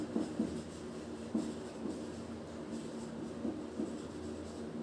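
Writing the word Eurasia on a board gives faint scratchy strokes in short groups, spread over a few seconds against a quiet room hum.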